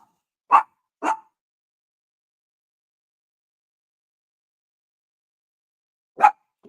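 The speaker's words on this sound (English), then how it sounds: "the door opened and Lucy started freaking out" A little guard dog named Lucy barks indoors after a door opens: two sharp barks in quick succession, a long silence, then one more bark, fairly close and alone with no talk.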